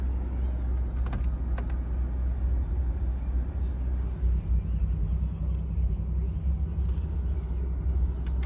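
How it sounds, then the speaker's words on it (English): Car engine and exhaust running at a low, steady rumble, fairly quiet and close, with a few faint clicks and small interior sounds over it and no talking. "The exhaust is not too loud."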